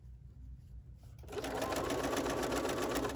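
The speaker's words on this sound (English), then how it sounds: "Bring it back and sew." A sewing machine stitching a fabric needle book starts up after a second of quiet room tone, then runs in a steady, fast, close whirring hum until the end.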